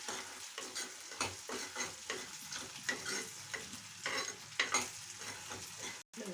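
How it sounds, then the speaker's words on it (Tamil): Dried turkey berries sautéing in a pan for a tamarind gravy, with a steady close frying sizzle broken by repeated scrapes and clatters of a spoon stirring, no voices. "அதனால் சுண்ட வத்தலையும் போட்டு வதக்கிட்டு நல்லா பொன்னரமாக வதக்கணும்."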